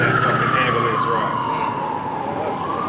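A siren wails loudly and continuously, its pitch sliding slowly downward, with traffic rumble beneath it.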